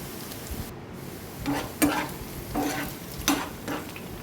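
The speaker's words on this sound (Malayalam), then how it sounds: "ചെറുതായിട്ടൊന്ന് മൂത്ത് വരുമ്പോഴത്തേക്ക് ഇതൊന്ന് ഇളക്കി കൊടുക്കണം" A spoon stirs a colocasia stir-fry in a pan, giving soft scraping strokes over a faint sizzle, close and fairly quiet, with no talking.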